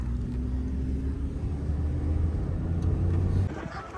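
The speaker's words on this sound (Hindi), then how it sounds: "गाड़ी हमने जी बुक कराई है, TZ लिमिटेड एडिशन, है ना?" Engine of a TZ limited edition car driving on a mountain road near Satpara Lake, a steady low rumble that holds close and even before easing off near the end.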